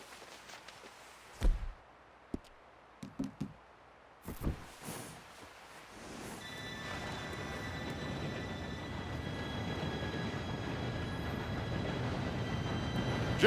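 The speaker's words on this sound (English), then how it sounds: "Train should be here any minute now." A train in Red Dead Redemption 2 approaches as a steady, growing rumble and rattle of wagons that swells over several seconds, following a few scattered thumps and footsteps, with no talk over it.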